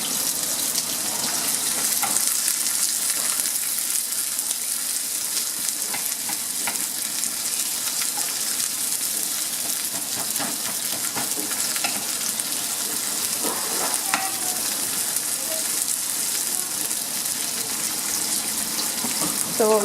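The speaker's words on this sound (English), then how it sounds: "So what we want to do here is just kind of caramelize onions." Onions caramelize in a pan of hot oil, giving a continuous loud hissing sizzle with faint crackles and occasional soft scrapes of stirring.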